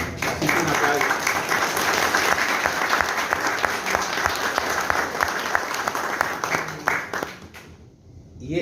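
An audience applauds at a book presentation, sustained clapping from a room full of people with a voice briefly over it, then fading near the end.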